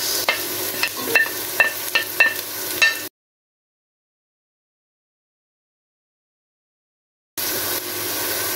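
Ginger, garlic and onion sauté in a pan with a steady sizzle and a few sharp stirring clicks for about three seconds. After a stretch of complete silence, the frying hiss returns.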